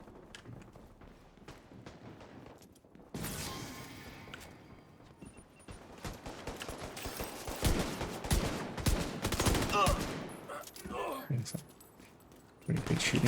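Gunfire in a first-person shooter game: bursts of rapid shots and scattered single cracks, growing denser and louder through the middle, mixed with game sounds and footsteps while a player talks over it.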